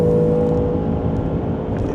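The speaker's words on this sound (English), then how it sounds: "And listen to that engine note." Close, steady engine note from a 2025 Land Rover Defender OCTA's 5-litre supercharged V8, a low sustained hum with a few faint higher whines drifting over it.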